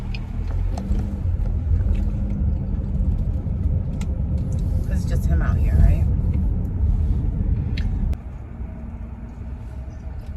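Road traffic passing on a street where cars were doing about 60 in a 40 zone, a loud continuous low rumble of vehicles that drops off near the end, with a person talking over it.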